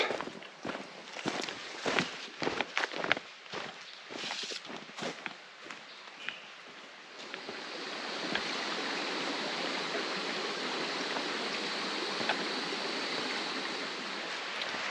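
A creek on a Cheaha Wilderness hiking trail in Alabama, heard first behind a run of close footsteps on the trail, then as a steady, full rush of flowing water that holds alone for the rest of the clip.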